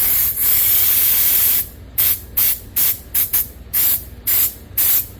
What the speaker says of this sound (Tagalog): I have to spray this one.